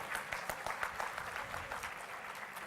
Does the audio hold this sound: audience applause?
yes